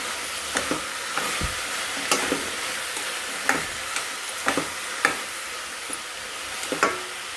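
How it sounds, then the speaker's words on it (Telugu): Onions frying in a pan for egg curry give a steady sizzle, with scattered close clicks and scrapes as they are stirred and no voices. "ఆనియన్ వేసి ఆనియన్స్ అన్నీ వేసేసి ఒకసారి తిప్పుకుందామండి"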